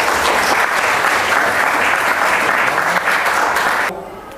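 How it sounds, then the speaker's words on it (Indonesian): Group of students in a classroom lesson bursts into loud, dense applause. The clapping holds steady, then cuts off abruptly near the end. "Kita berikan tepuk tangan dulu."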